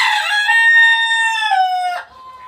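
A rooster crows once, loud and close, a long harmonic call lasting about two seconds before cutting off to quiet; the bird is one of four cocks kept with twenty hens in a farm coop.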